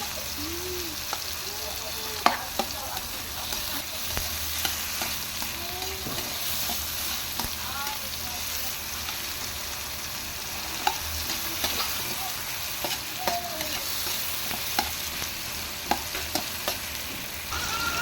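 Chopped ginger sizzles in a pot for sinigang sa miso as a utensil stirs it, giving soft frying hiss with scattered clinks and scrapes, fairly quiet and steady throughout, no speech.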